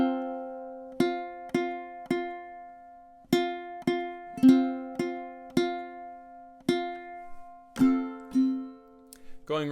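Close, clean ukulele strumming through two measures of a song, about a dozen crisp down and up strums in a steady rhythm with chords ringing between them, ending with a quick muted flourish.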